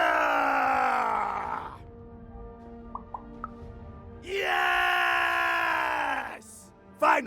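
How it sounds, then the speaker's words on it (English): In the Lost in Random video game, characters let out two long, loud, strained battle screams with a quieter gap between them and a short burst at the end. "We need to scream so that our enemies know that we're here!"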